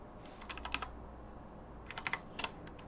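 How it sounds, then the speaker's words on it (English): Someone types on a computer keyboard nearby. Two short bursts of quick, light key clicks sit against a quiet background. "And so we can just type return,"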